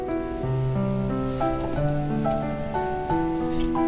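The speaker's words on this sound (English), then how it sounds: "different from the coldness of the rain." Steady rain falls in the video game Castle Meister, a constant even hiss under a sustained melodic music track with shifting notes, no voices.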